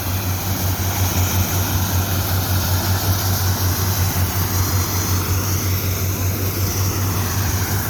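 A tractor engine running at steady revs to drive a PTO shaft, giving a loud, close, continuous throbbing drone with a dense mechanical rattle and no break throughout.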